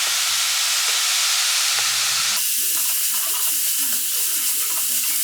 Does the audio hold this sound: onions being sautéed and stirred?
yes